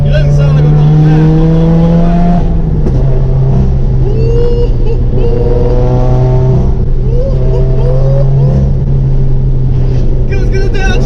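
A Subaru WRX/STI engine drones steadily while cruising, a constant low hum and road noise inside the car, with a voice talking over it.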